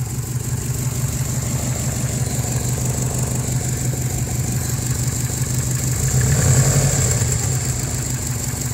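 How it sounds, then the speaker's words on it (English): A cheap turbocharged all-wheel-drive car idles while warming up, with a steady close engine hum and a brief rise in revs near the end before it settles back. "I mean, the engine sounds clean to me."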